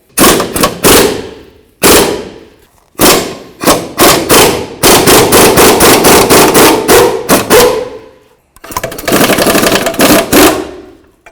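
Rapid bursts of an impact wrench or ratchet working the lower shock mounting nut on a 2007-13 Toyota Tundra, loud and close, in several long rattling runs separated by short pauses.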